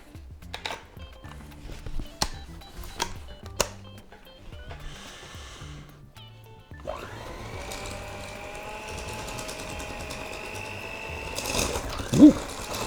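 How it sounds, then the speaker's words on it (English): Electric hand mixer beating butter and cream cheese for hummingbird cake frosting: a few clicks and knocks, then a steady, close, high motor whir that runs continuously for about six seconds. "I'm going to use my hand mixer today and get my butter and my cream cheese all mixed together."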